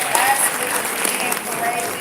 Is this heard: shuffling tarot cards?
no